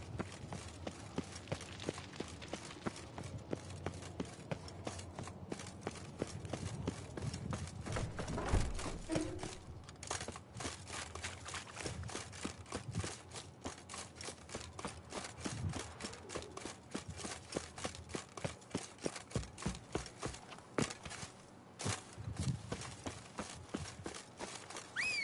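Horse hooves gallop in The Witcher 3, a steady rapid clip-clop running close and continuous with game ambience underneath, pacing shifting slightly over the ride.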